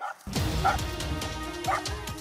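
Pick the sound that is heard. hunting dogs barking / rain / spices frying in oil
hunting dogs barking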